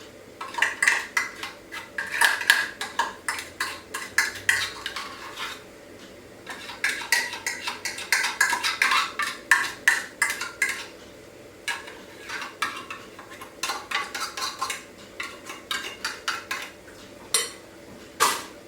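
Ingredients are mixed in a bowl with a utensil, giving repeated clinking, scraping and tapping strokes in busy bursts, close and fairly loud, with brief pauses between runs of stirring and no talking.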